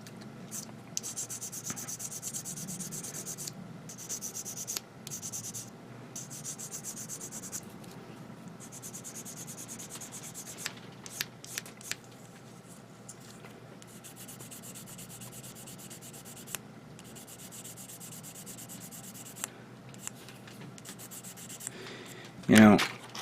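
A sanding stick rubs back and forth on a small plastic part from an HG 1/144 Gundam model kit, producing soft, close scratchy strokes in an irregular rhythm over a long stretch, ending with a brief louder knock.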